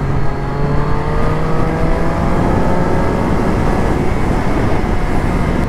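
A Triumph Daytona 675R race motorcycle engine running loud and close, a steady droning tone whose pitch slowly rises and falls.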